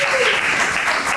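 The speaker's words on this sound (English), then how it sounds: "Let's also give Dr. Anderson another big round of applause that we can for amazing leadership." Applause from a community meeting audience for Dr. Anderson at a ward consent decree meeting, a dense, steady wash of many hands clapping at once, loud and continuous throughout.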